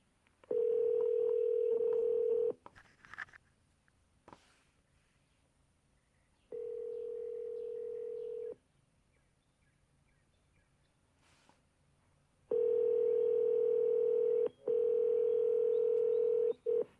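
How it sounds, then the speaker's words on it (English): Steady telephone dial tone sounding in three separate bursts with quiet gaps between them, clear and close. "let's place a call"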